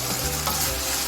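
Chicken chow mein with ketchup stirred while it fries, giving a short burst of dense sizzling with a utensil scraping through the noodles, close and fairly loud, no voices.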